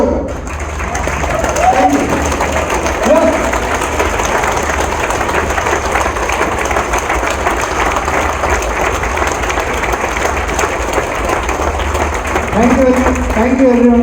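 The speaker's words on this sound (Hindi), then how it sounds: "आप सब लोगों के इस एजुकेशन सिस्टम के लिए बहुत शानदार तालियां होना चाहिए, खड़े होकर।" A standing audience at an evening event claps steadily in a sustained, even wash of applause that runs the whole clip, with voices breaking through at the start and end.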